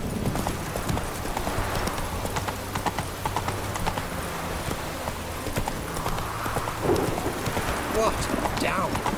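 Horse hooves clip-clopping at a steady pace while riding in The Witcher 3: Wild Hunt, Hearts of Stone, continuous rhythmic thuds over ambient game noise, with brief character speech.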